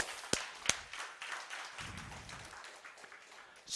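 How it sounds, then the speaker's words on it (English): Church congregation clapping their hands for the Lord during a sermon, a few sharp individual claps followed by scattered, fairly faint applause that fades out quickly. "Come on, we give the Lord a hand clap."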